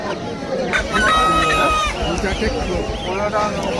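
Chickens and turkeys at a busy poultry market in Basanti, Sundarbans, cluck and crow nearby, with a drawn-out crow standing out over crowd murmur and voices.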